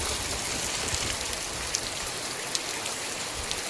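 Heavy rain pours down on farmland, a dense, continuous hiss with scattered drop impacts, steady and close with no voices.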